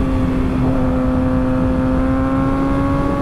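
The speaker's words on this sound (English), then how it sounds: "Dude, my bike is like breaking my eardrums right now." Loud, steady engine drone from a bike held at high revs close by, with strong harmonic whine throughout and no talk.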